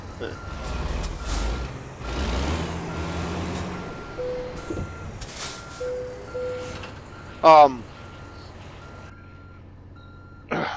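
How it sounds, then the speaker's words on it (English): Truck backup beeper in American Truck Simulator, a repeating electronic beep tone over idling engine rumble and a sharp air brake hiss near the end, with someone talking over parts of it. "Backup beeper"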